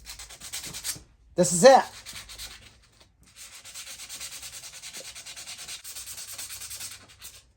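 Sandpaper rubs back and forth along a blade edge that carries a large burr, a steady scratchy rasp running for several seconds after a brief spoken remark, close and moderately loud.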